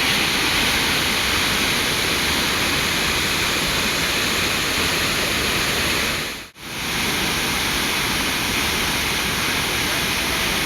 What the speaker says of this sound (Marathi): बघा मित्रांनो धबधबा